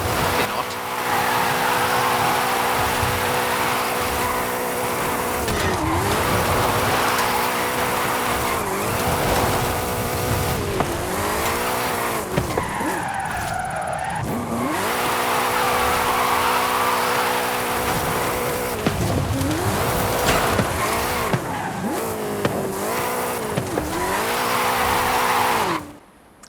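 A drift car in Forza Horizon 5 slides continuously with sustained engine roar and tyre squeal, revs rising and falling through repeated slides, loud and close throughout the whole stretch with no pause.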